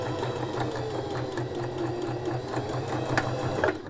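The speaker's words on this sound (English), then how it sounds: "So if you take it all the way to the end," A sewing machine stitches a casing right to the end of the fabric with a steady, fast mechanical whir and needle chatter, running continuously up close and stopping abruptly at the finish.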